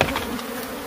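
Killer bees buzz loudly and close during a bee removal, a dense, continuous insect drone with no talking.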